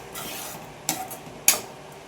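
A spoon scrapes through thick coconut halwa in a pan over a low flame, giving two short, sharp strokes against a soft, steady background hiss, with no talking.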